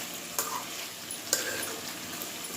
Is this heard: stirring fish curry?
yes